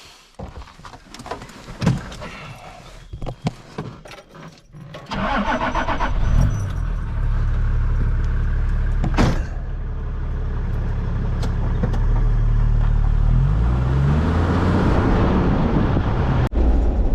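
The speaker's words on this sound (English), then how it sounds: "Okay, we're just driving through Bendoc" A car engine starts and settles into a steady running drone, then the vehicle pulls away on a rural road near Bendoc in Victoria, its engine note rising and shifting as it drives off, loud and close with no talk.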